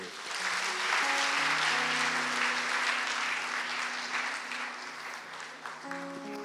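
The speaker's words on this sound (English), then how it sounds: "Let's give the Lord a big hand clap of praise." A church congregation claps hands in praise, producing a full, sustained wash of applause that fades slightly near the end, with held keyboard notes sounding underneath.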